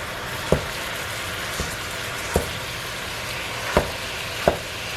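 Ground meat for beef stroganoff browns in a pan with a steady soft sizzle, punctuated by a few sharp clicks and scrapes of a utensil against the pan.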